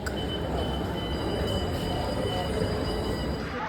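A metro train rumbles loud and close at Tollygunge station in Kolkata, its wheels squealing over a steady roar of rolling rail noise.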